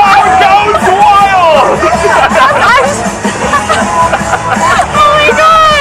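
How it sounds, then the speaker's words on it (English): A crowd at a card magic trick erupts in loud excited yelling and cheering, a dense babble of many voices calling out together, close and sustained. "And the crowd goes wild!"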